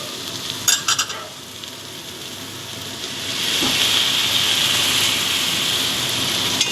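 A splash of hot water hits sautéed banana flower cooking with grated coconut in a pan, setting off a loud, steady sizzle and hiss that swells after a few seconds and holds; a couple of clinks come early on.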